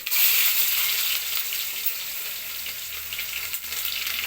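Steady, loud crackling sizzle of onions, mustard seeds, cumin and curry leaves frying in hot oil, continuous and close, with no voices.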